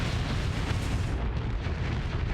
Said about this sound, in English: He's too close to the explosion.